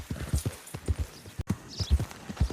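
Horse hooves clip-clop in a video game with a steady, quick, close rhythm, the thuds repeating evenly and continuing almost without a break.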